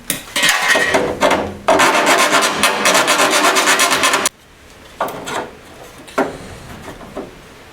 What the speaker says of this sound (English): I've just got a little high spot there which I'll file down